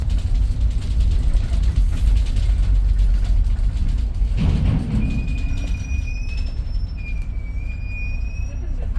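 Trains at a station in Prague: a steady mechanical rumble and clatter, then thin, high metallic squeals drawn out in the second half, with voices murmuring in the background.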